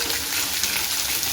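Chopped garlic frying in oil in a pan, a steady close hiss of sizzling that holds evenly throughout with no voices.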